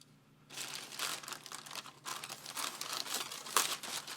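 Packaging for a Canon Selphy CP1500 compact photo printer crinkles and rustles as it is opened, with bursts of plastic and paper crackling after a quiet start, close and fairly soft, ending in a sharp crunch.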